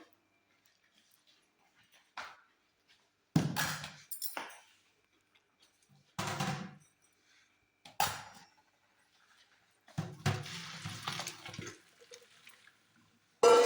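Boiled noodles being drained through a strainer for chowmein, heard as several short splashing, gushing bursts of water with pauses between them, moderately close with no talking.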